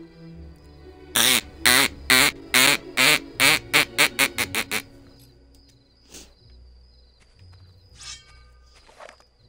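A voice imitates a duck call with about ten loud, rapid quacking honks that speed up and shorten, then trail off into scattered faint noises during Fable game play.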